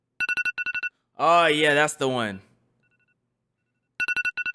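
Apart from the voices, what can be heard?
iPhone alarm sound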